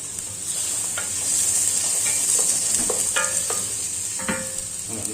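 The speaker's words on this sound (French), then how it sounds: "Voilà, les carottes vont être revenues." Carrots for beef bourguignon sautéing in a pan, a steady sizzle broken by intermittent light clinks and scrapes of a utensil, close and moderately loud, with no speech.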